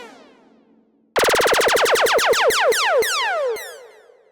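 Electronic FX sound called End from a tech and minimal house sample pack: a rapid run of bright, descending zapping sweeps that starts abruptly, repeats in a fast stuttering rhythm, then cuts off with a short fading tail.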